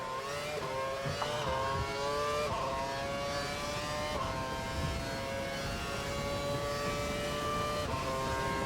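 A racing car engine in a racing video game revs steadily at high pitch, shifting through gears in a continuous loud whine with no talk.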